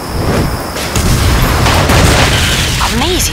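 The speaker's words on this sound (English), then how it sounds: "Each time the gauge fills up, you get another demolition shot." Gungrave Overdose demolition shot blasts out as a loud, booming explosion with dense, sustained rumbling gunfire, followed by a voice speaking over the din.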